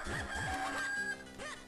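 A chicken in The Legend of Zelda: The Minish Cap video game clucks twice in quick succession, then gives a shorter squawk near the end, over a held electronic music tone.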